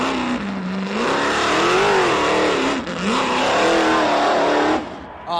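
A race car engine at the King of the Hammers 2018 Holley EFI Shootout roars loudly through a run. Its pitch rises and falls through the revs for about five seconds before suddenly dropping away.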